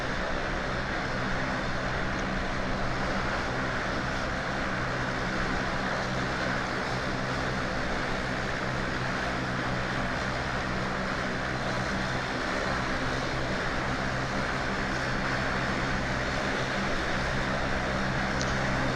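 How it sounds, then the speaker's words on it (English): A MiG-21 Bis coming in at Bodo Airport in Microsoft Flight Simulator 2020 gives a steady, loud broadband jet roar that holds unchanged throughout, with no voices. "There we got an airplane coming in."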